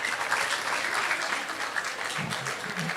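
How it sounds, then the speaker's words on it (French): Students of a middle school dressed as sapeurs, elegant dandies in sharp clothing, receive steady, dense applause from an audience at a film club screening, a continuous wash of clapping with a faint voice near the end. "Applaudissez pour vous, les sapeurs."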